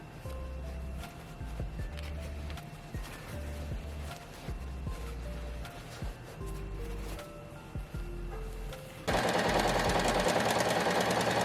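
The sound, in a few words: sewing machine stitching a skirt onto a bodice, bedsheet fabric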